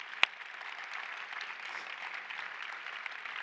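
At a women's salon event in Texas, a crowd gives an honoree a round of applause, heard as a fairly quiet, distant, even patter of many hands, with one sharp close bang near the start.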